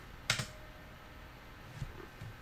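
A computer keyboard is tapped in a quiet room: a couple of quick clicks near the start, then a few fainter, scattered keystrokes.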